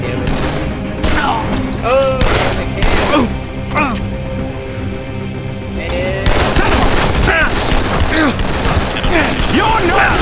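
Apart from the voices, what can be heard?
gunshots in the video game Dead Island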